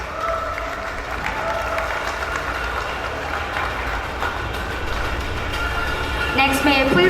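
An audience applauds at the Bosch Rexroth Thailand grand opening ceremony, a steady, dense wash of clapping lasting several seconds, with a voice briefly rising over it near the end.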